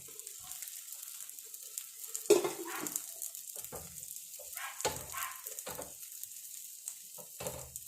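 Oil drizzled around batter in a hot pan gives a soft sizzle with scattered brief bursts and faint stirring clatter, close and fairly quiet, with no voices.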